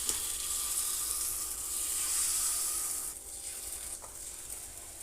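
Millet and jaggery batter pouring into hot ghee for pongadalu, a steady broadband sizzle holding loud through the first three seconds, then dropping slightly quieter with a brief crackle near the end, no talking.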